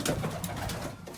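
Young racing pigeons coo softly and continuously in a loft, several birds murmuring together at close range with no voices over them.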